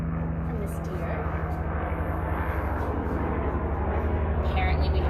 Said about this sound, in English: Apparently we have a helicopter overhead.